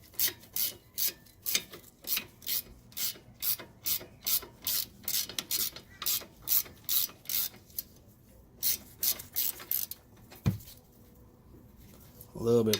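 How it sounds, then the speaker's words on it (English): A ratchet and wrench tighten front brake parts while a car's brakes are being rebuilt, giving a close, rhythmic series of rasping clicks in about twenty even strokes, then pausing before a final short burst. "Ratchet and wrench for the win."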